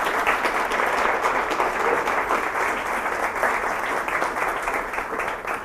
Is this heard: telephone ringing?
no